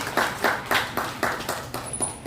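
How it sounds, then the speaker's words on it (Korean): A church congregation claps together in a steady, rhythmic beat of sharp, even hand claps, about four per second, filling the hall with a bright, moderately loud pulse. "하나님께 영광의 박수 올려드리겠습니다"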